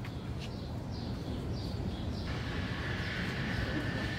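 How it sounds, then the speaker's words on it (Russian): Birds sing faintly in an elevated park on Manhattan's High Line, the thin chirps scattered over steady city background noise, with no talking. "Слышите, птички поют,"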